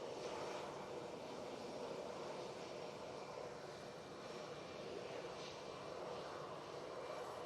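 An Emirates airliner passes high over Manchester Airport above low cloud, giving a continuous, fairly loud wash of engine rumble that stays constant throughout, with no talking.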